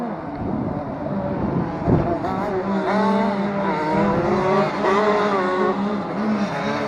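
A retro racing kart engine revs hard as it leaves the pits at Rowrah during a Formula C championship round. The buzzy note rises and falls in pitch over a steady background of other engines.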